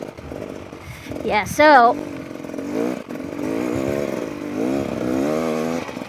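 A 2021 Beta Xtrainer dirt bike's engine pulls up a hill, a buzzing two-stroke note that rises in a brief rev and then drones steadily under a rider's speech.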